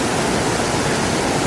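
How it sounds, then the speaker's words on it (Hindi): Water pours down from a mountain in a waterfall, a steady, dense rushing roar that fills the whole moment without any break or voice. "पहाड़ के ऊपर से पानी नीचे क्यों गिर रहा है"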